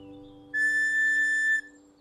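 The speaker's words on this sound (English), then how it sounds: "I'll toot the beat on my whistle for everyone to hear." A cartoon character's whistle gives one sustained, bright toot lasting about a second, standing out clearly above soft background music in a children's animated show.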